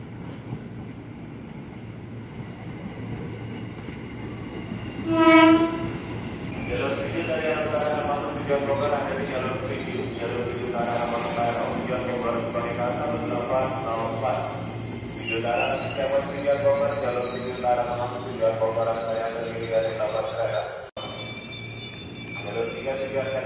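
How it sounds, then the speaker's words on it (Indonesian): A KRL commuter train climbs the ramp toward the elevated tracks at Manggarai station, a steady rumbling run with metallic squeals and rising tones, a loud burst near the start, heard from nearby over a continuous background. "kelihatan gak sih KRL-nya nanjak menuju jalur layang stasiun Manggarai dari arah stasiun"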